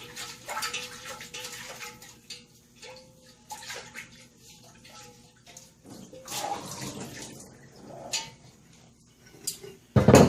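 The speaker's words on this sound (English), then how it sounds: "I'm going to rinse it out, then we'll re-oil it." Water runs and splashes inside a cast iron Dutch oven being rinsed, intermittent gushes and swishes with light metallic clinks, ending in a loud burst of running water.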